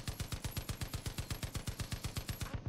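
Rapid automatic gunfire from a big gun in Far Cry 5, about twenty evenly spaced loud shots in a steady burst that cuts off abruptly at the end.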